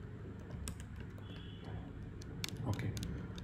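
Rapid keystrokes on a computer keyboard, a quick irregular run of close clicks over faint room hum.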